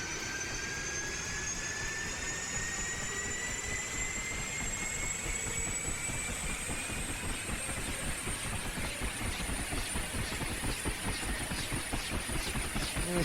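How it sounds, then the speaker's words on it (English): A Huey helicopter turbine runs after start-up in a flight simulator, a loud steady whine climbing slowly in pitch over a rhythmic low rotor thump that holds constant and close throughout. "And we have a good engine start."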